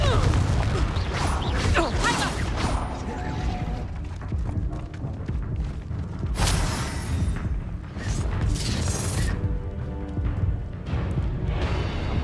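A Confringo fire spell explodes during Hogwarts Legacy combat, with heavy booms and crashing impacts layered in dense, loud battle noise alongside spoken voices.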